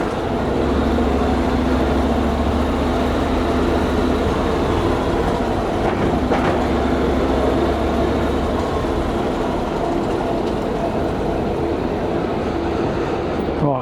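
A steady, loud rumble of a Eurotunnel train carrying motorbikes through the Channel Tunnel, with continuous low droning and faint rhythmic clatter throughout.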